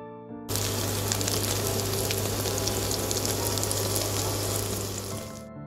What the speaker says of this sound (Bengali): এবার আমি ডিমের অন্য পাশটাকেও 1 মিনিটের জন্য ভেজে নিচ্ছি।